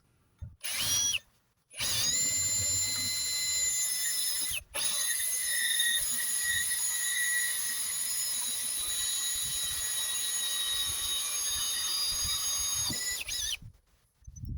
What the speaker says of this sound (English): You just grab the drill.